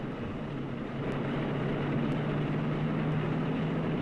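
The four piston engines of a Dominator bomber drone in a steady, unbroken roar with a low humming tone underneath, constant in level throughout.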